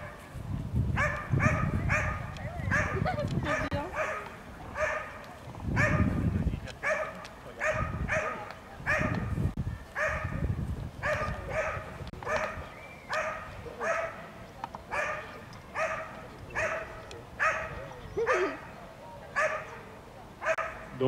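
A dog in a protection-sport trial barks steadily and repeatedly at a found decoy, loud rhythmic barks in even bursts for about twenty seconds, with muffled talk and crowd noise underneath early on.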